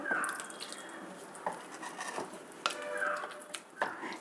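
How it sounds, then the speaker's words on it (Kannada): Faint water dripping and trickling close by, with scattered small splashes and clinks in an otherwise quiet room. "ಇನ್ನೊಂದು ಚೂರು ನೀರು ಹಿಡಿಯುತ್ತೆ ನೀರು ಹಾಕ್ಬಿಟ್ಟು"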